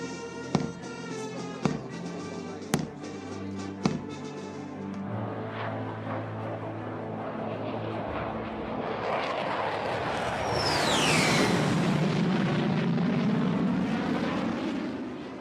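A Rafale fighter jet at Ambala Air Force Station builds from a distance into a loud, swelling roar that sweeps past overhead, preceded by a few sharp clicks or pops.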